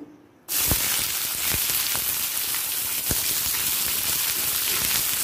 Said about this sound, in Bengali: পেঁয়াজ আর রসুনটা 10 সেকেন্ড মতো ভেজে নিচ্ছি